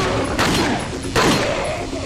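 Two loud gunshot bursts from a weapon in Resident Evil 4, about a second apart, cracking over a dense game soundscape.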